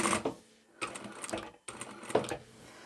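A sewing machine backstitches a fabric shopping bag in short close bursts of rapid needle clatter, three runs separated by brief pauses.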